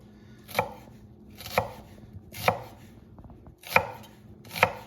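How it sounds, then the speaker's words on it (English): A knife slices through an onion on a cutting board, five separate crisp thunks at an even, unhurried pace, close and clear. "we're gonna take our knife, we're gonna cut almost to the root, but not all the way through"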